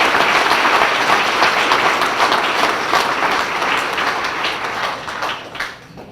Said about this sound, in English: Can you give all of them a round of applause?